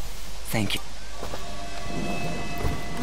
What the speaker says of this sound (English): that is pretty impressively heavy rain